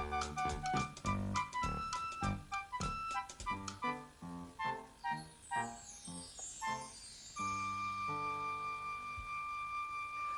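A clock chimes midnight with a long series of evenly spaced, ringing strikes, its tones overlapping and fading into a lingering hum.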